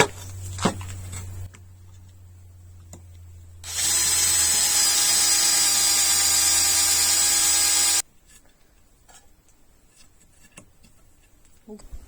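A power drill bores holes into a piece of wood for a firewood rack: one loud, sustained whirring burst of about four seconds, with quieter handling knocks and clicks before and after.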